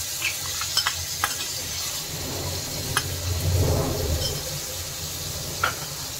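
Spice paste hitting fried potatoes in hot oil in a fish recipe, giving a steady sizzle with a swell of frying noise midway and occasional light utensil clicks.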